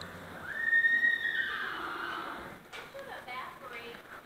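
A large mare neighs loudly nearby while being fed hay, a long whinny that trails off, followed by quieter sounds and faint talking.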